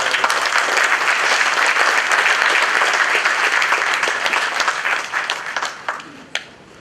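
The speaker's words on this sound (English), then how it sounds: "let's give a thundering applause" A convocation audience gives thundering applause to the guest of honor, a loud, dense wall of clapping from many hands that stays full for several seconds before tapering off with a few scattered claps.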